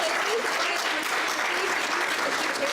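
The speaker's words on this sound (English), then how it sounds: "Let's give our volunteers a big round of applause" At a talk, an audience gives volunteers a full, steady round of applause, a dense and even clatter of many hands that stays loud from start to finish.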